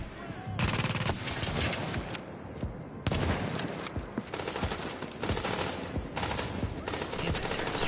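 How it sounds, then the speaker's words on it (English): Automatic weapons fire in The Division during a PvE survival match, loud bursts of gunfire rattling in long clustered volleys with short breaks between them, with a voice speaking briefly among the shots. "They can shoot their gun."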